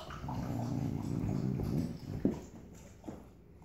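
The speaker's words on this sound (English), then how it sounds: "You are a happy little dog." A small dog whimpering and shuffling around close by, with soft whines, faint tapping movement and a couple of brief bumps, no talking.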